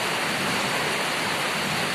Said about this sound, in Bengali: বৃষ্টি এত জোর প্রচুর প্রচুর বৃষ্টি